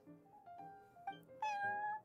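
A cat meows in the game Genshin Impact, a series of short close mews followed by one longer, rising and clearer meow, heard alone over a quiet background.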